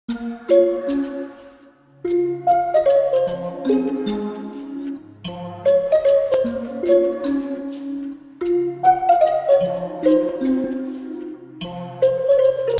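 A chiming, sad bell-like synth melody rings over soft piano chords, repeating in phrases at a steady, moderately loud level without any talking.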